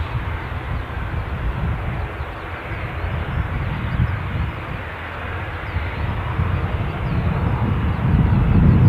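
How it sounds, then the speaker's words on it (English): Etihad Airbus A350 airliner at Dublin Airport, a steady broadband jet engine roar with a deep low rumble that swells louder toward the end, heard from outside with some wind buffeting. "the mighty Airbus A350 in the form of the Etihad plane after that"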